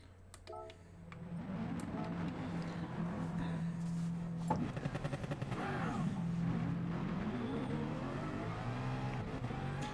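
Racing cars lapping Monza in Gran Turismo Sport during an FIA Nations Cup race, engines holding a loud, continuous roar that climbs and shifts with gear changes as cars pass.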